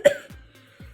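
A single sharp cough bursts out close by at the start, followed by brief low throaty sounds.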